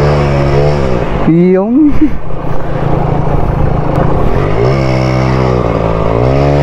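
A 50cc Honda Dio motor scooter engine revs up in rising whines, drops back to idle, then revs again close by, with a brief spoken word.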